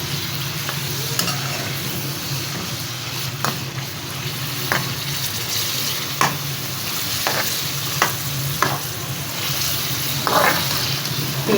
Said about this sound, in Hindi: तेज़ आंच पे इसको पका लेते हैं